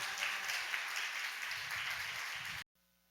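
Church congregation applauding together during a Sunday morning service to welcome a deaconess forward, a dense steady wash of clapping filling the room for about two and a half seconds before cutting off abruptly.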